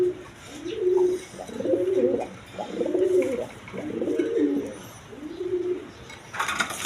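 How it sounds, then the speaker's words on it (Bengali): A pair of Rajgolla pigeons cooing close by, several soft rolling coos in a steady rhythm with a brief noisy rustle at the end. "এখানে এক পেয়ার আপনার রেশার কবুতর আছে দেখেন কোয়ালিটি সম্পন্ন কবুতর রেশার"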